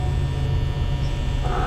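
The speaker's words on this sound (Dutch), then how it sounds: "Ik heb hier namelijk ook de ventilator aan." A steady low electric hum of an electric fan running nearby, constant and unbroken with no voices.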